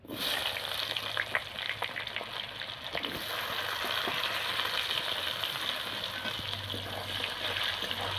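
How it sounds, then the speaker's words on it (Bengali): Chopped onions dropped into hot oil with bay leaf and cumin give a loud, dense hiss and crackle. The sizzle stays steady and close, with light stirring scrapes. "এবার আমি বড় বড় পেঁয়াজ কুচিটি দিয়ে দিচ্ছি।"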